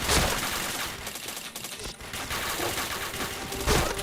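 Rapid bursts of automatic gunfire in a shooting video game, dense and loud throughout with brief pauses, with no talk over it.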